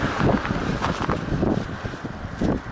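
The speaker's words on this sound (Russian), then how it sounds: "Иду, ветер в спину" Wind gusts buffet the microphone while someone walks outdoors in cold weather with the wind at their back, a continuous close rumble swelling in several bursts with no talk.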